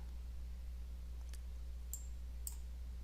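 Computer mouse clicks, three small sharp ticks about half a second apart, close and crisp over a steady low electrical hum.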